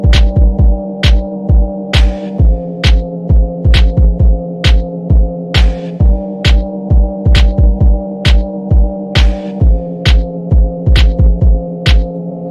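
Dance beat loop in a new wave style, pitched down two half steps, playing alone and loud with a steady pounding kick and sharp snappy hits over a low droning tone, repeating evenly throughout.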